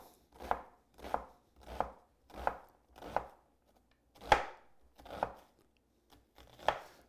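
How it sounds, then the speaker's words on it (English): Steady knife chops through an onion on a cutting board, about ten sharp strokes at an even pace with brief pauses, close and alone. "chopping your onion becomes very simple"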